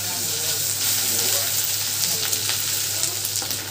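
Spices sizzle and fry steadily in a hot karai in a home kitchen, a continuous close, even hiss with occasional faint stirring.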